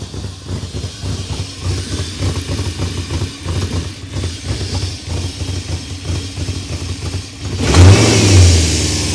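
A BMW engine revs repeatedly with its idle control valve removed, the rhythmic surging of throttle blips rising to a louder, stronger rev near the end; no talk over it.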